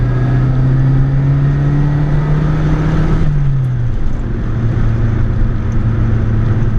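A Saab 900 with a 2-liter dual overhead cam turbo engine revs loudly and steadily, its tone climbing through the first three seconds before dropping back to a lower, sustained drone, with no talking over it.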